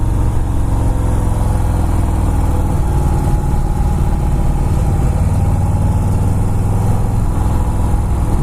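Harley-Davidson Fat Boy S Softail engine while riding, a loud, steady low rumble with a constant throb and wind wash, heard from on the bike without a break.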